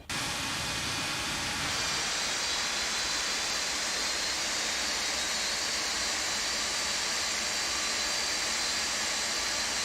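Number 2 jet engine of a Boeing 747-200 spooling up in a flight simulator, a broad roaring rush that settles into a steady, even whine for ten seconds without talk.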